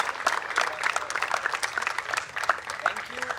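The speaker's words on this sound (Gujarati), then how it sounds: "એકવાર જોરદાર તાળીઓ થઈ જાય વિશાલભાઈ માટે." Audience applause at a Western Premier League cricket prize distribution ceremony, honouring Vishalbhai; steady, fairly loud clapping from a crowd filling the whole moment with dense rhythmic claps.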